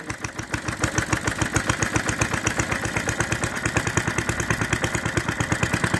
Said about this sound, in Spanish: Ahí Oscar está funcionando con hidrógeno.